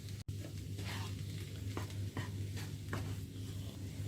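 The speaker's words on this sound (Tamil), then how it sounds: "லோ ஹீட்டில் வச்சு இதை பிரட்டி கொள்ளுங்கோ" Vegetable samosa filling being stirred in a pan over low heat, with a steady soft sizzle and a few scraping strokes of the spoon at irregular intervals, close and alone.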